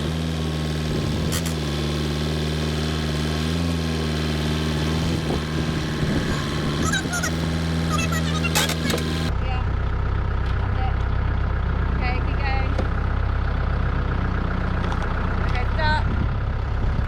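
Tractor engine running steadily while pushing a deck section for an outdoor kitchen into place, a loud, close, continuous rumble that holds for the whole stretch with no talk.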